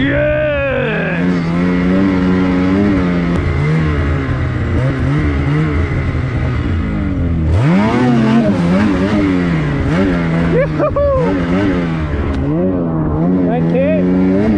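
A 2024 Ski-Doo Summit X Expert Turbo snowmobile revs hard through deep powder, its loud engine rising and falling in long surges, with riders shouting and cheering over it.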